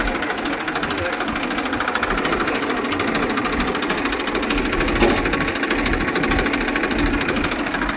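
A village tractor engine runs at a steady, rapid mechanical clatter that stays constant throughout, with voices talking over it at times.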